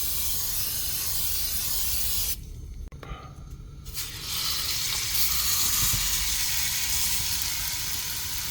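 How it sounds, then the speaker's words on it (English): Vegetable oil spray hissing into a hot pan inside a van, a steady broadband sizzle that briefly drops out mid-clip, then resumes, louder and fuller. "hot pan, adding a little bit of vegetable oil spray"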